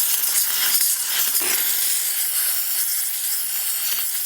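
A steam cleaner works into the crevices of a car interior, letting out a loud, continuous hiss that dips briefly once before resuming, close to the microphone with no voices.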